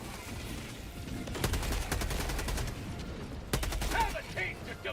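Rapid weapon fire in the sci-fi shooter Helldivers 2, two bursts of quick repeated shots over a steady background of battle noise, fairly close and moderately loud.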